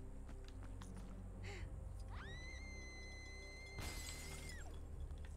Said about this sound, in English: I need to break the glass.